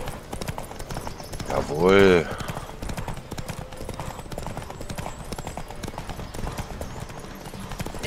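Galloping horse hooves drum steadily during a horse race in The Witcher 3, with a loud whinny partway through and someone talking over the rhythm.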